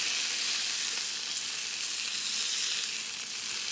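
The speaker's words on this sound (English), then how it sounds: "I have already seared the steak on one side, and I've just seared it on the other" A steak sears in a hot pan outdoors along the Blue Ridge Parkway, giving a loud, steady, close sizzle that runs unbroken without any talking.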